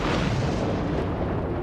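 A short burst of explosions from a bombing campaign, dense and rumbling, with loud, continuous deep booms through the whole moment and no speech.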